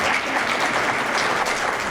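Audience clapping at a young authors' contest award ceremony, steady and dense, filling the whole moment with no talk.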